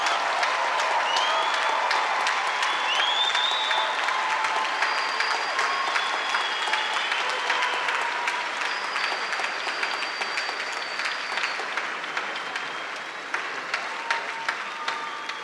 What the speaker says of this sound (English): Let's give a big round of applause for these new LSU graduates.